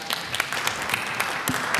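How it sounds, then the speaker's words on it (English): Clapping from a panel discussion audience at a conservative political conference in Hungary, a brief patter of scattered hands, moderately loud and somewhat irregular, with no speech over it. "Big clap for that"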